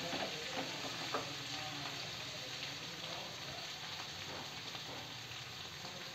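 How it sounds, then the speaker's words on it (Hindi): Vegetables fry in a pan in a home kitchen, giving a continuous close-up sizzle with faint stirring crackles, steady throughout and without any voices. "अभी ये थोड़ा बहुत और भूनेंगे, 5 से 10 मिनट भूनेंगे इसको"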